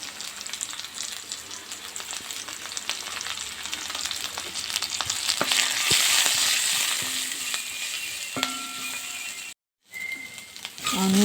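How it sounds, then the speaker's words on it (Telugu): Onions and green chillies frying in oil with cumin and mustard seed tempering and a little turmeric, a dense close sizzle with crackles and occasional scraping stirs, swelling midway, briefly cut off near the end. "ఆనియన్స్ వేగిపోయాయి."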